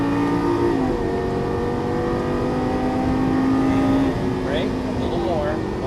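A Lamborghini Gallardo LP-550 engine drones loudly and steadily on a track, its pitch holding then sweeping upward as it accelerates, with a voice talking over it at times.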